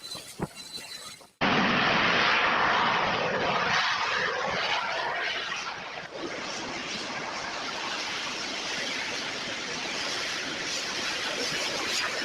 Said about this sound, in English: So the plane will land on that carrier while it's moving 35 miles an hour.